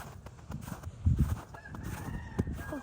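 Chickens and a rooster on a Lao family's farm during a winter storm in Texas, with clucking and a crow heard at moderate distance over a rough, noisy background.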